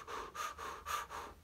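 Rapid, forceful breathing exercise demonstrated up close: five strong, evenly spaced breaths in quick succession, each a loud airy rush with short gaps between, no talking.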